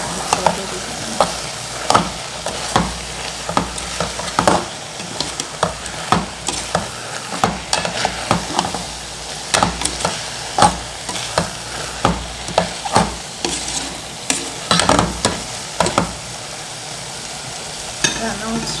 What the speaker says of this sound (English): So this is the right time to put my dhania. I just mix and place the pot.